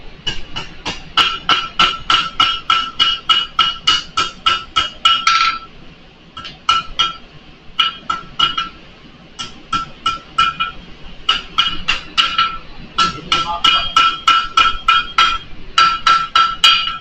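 A hammer strikes again and again in quick, even bursts of ringing blows, loud and close, pausing briefly between runs.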